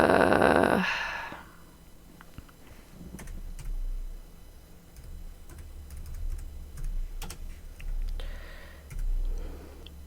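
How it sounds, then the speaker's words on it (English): Soft clicks of a computer keyboard being typed on during a hobby livestream, scattered keystrokes under low background hum after a brief burst of noise at the start. "it'd help if I was actually typing in chat"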